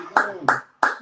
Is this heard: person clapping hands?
yes